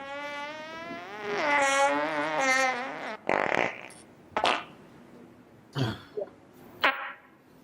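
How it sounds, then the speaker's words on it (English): A long, drawn-out buzzing fart with a wavering pitch rumbles for a few seconds, followed by several shorter, sputtering bursts with brief pauses between them. "Was that a fart?"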